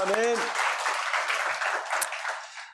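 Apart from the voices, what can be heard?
congregation applause in church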